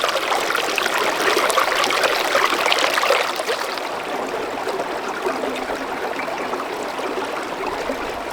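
A mountain stream flows steadily beside a hot afternoon trail, its close, continuous rushing and trickling a little louder in the first few seconds before settling into an even burble.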